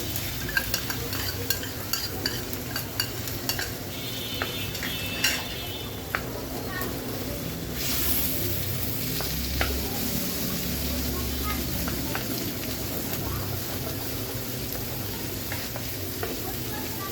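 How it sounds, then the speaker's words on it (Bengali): Two eggs frying in a pan for Chinese-style noodles give a steady, close sizzle, broken by frequent light scrapes and clicks of stirring. "এখানে দিয়ে দিচ্ছি দুইটার ডিম"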